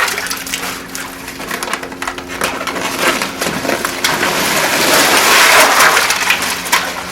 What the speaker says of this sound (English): We're going to put 40 pounds of ice